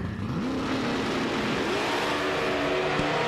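Drag race cars, including a 400-cubic-inch 2004 Mustang, launch side by side at an NMCA street-car event, engines roaring loud and continuous with rising revs, alone without talk.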